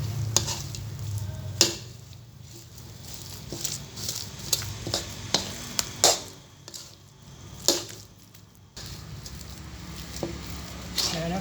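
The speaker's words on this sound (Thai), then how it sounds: "คั่วแบบนี้ไปเรื่อย ๆก่อนนะครับ" Taro being stir-fried with sugar in a pan, with steady scraping and stirring over a soft sizzle and occasional sharp utensil clicks against the pan, fairly close.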